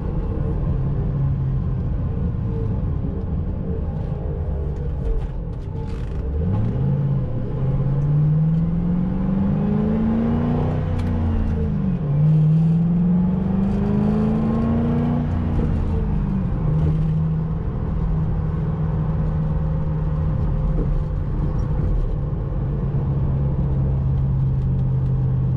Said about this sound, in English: Sounds like a bad wheel bearing